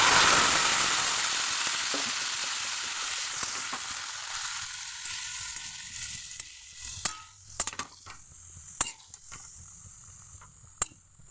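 Leafy greens drop into hot oil with garlic and crackle loudly at first, then the sizzle gradually settles while scattered sharp stirring clicks and scrapes stand out near the end.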